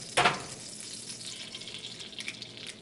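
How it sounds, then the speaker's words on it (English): Butter sizzles in a frying pan over lowered heat, a faint, steady crackling hiss that follows a brief sharp clack at the start. "Now that our butter is sizzling"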